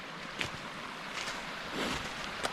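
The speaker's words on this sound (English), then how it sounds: "So you got a little waterfall right here." A small waterfall on a river property rushes with a steady, broad, fairly faint hiss, with cold wind gusting and a few soft bumps close by.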